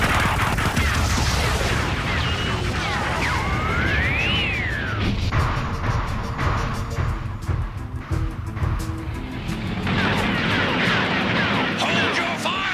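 Laser weapons fire rings out across a chaotic Transformers cartoon battle involving giant robots, dense overlapping blasts and crashes with rising whistling tones over a continuous loud din, with voices shouting among the noise.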